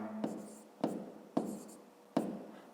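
A pen writes numbers on paper in four quick, separate scratching strokes, each starting with a soft tap and fading, heard close and quiet with no voices.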